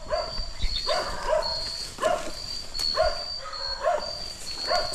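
An angry dog barks in a forest, letting out about six sharp barks at fairly even intervals from a moderate distance, while a thin, constant insect whine holds in the background.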